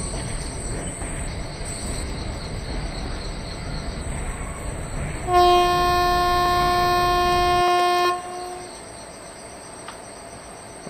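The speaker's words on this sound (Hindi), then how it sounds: "झिंगुर की आवाज़।" Crickets chirping in a train simulator game on the Kerala valley route, a steady close trill of several pitched tones over a low rumble, rising louder for a few seconds midway before settling back.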